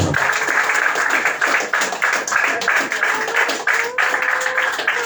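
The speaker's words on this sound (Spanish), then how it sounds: "Aplauda al Señor." A church congregation applauds with continuous clapping that swells and dips slightly, with faint voices underneath.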